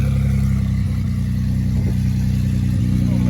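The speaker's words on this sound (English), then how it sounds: "where he does his burnout rear-wheel drive" A rear-wheel-drive car does a burnout at a drag strip, its engine droning loud and close with steady revving throughout.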